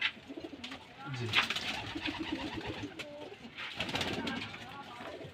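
Giribaz pigeons at a pigeon farm in Rajshahi, nine black and three white-marked birds, coo in soft repeated calls amid a busy background of flock noise, with a person talking nearby.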